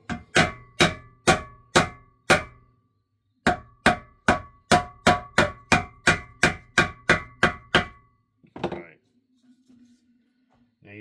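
Steel hammers with slightly rounded faces banging dents out of metal: about twenty sharp, ringing blows in a steady rhythm, a short pause partway, then the strikes stop and quiet sounds follow.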